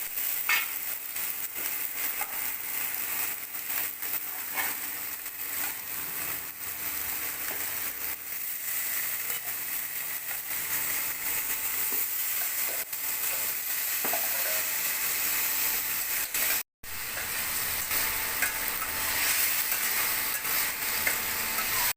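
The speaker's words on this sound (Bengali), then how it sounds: "কড়াইতে সর্ষের তেল দিয়ে দিয়েছি। এবার ব্রোকলিগুলো আর আলুগুলো ভেজে নেব।" Broccoli and potato pieces fry in mustard oil in a wok, giving a steady, dense sizzle with stirring throughout and a brief break near the end. No voices.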